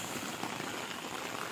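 Rain falls steadily on the ground and surfaces outdoors near a village pond, a dense, even hiss of drops that is close, loud and unbroken, with no voices.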